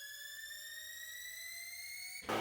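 A rising synthetic riser tone with stacked harmonics in a UK bass intro sweeps gradually upward for about two seconds, then breaks into a loud noisy burst.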